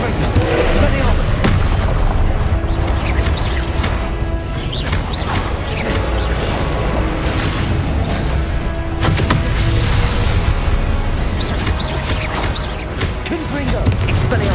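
Repeated Confringo and Incendio spell blasts in Hogwarts Legacy, a dense run of loud booming impacts and crashes over a constant roar, with a voice calling spell names throughout.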